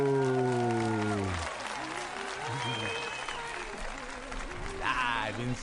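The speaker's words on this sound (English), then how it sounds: "listen to that applause, that thunderous applause" Studio audience applause on a live talk show, a broad wash of clapping that rises after a sung or musical intro fades, sustained and moderately loud under the mix.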